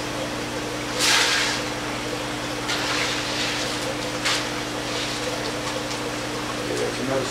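Water runs steadily while expanded clay pebbles and perlite grow media are rinsed, a continuous close wash with a pump-like hum and a few brief louder gushes or splashes.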